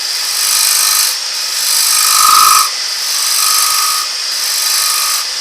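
Bowl gouge with its flute closed scraping the rim of a wooden bowl spinning on a lathe, a hissing shaving sound in several short passes with brief pauses, close and clear.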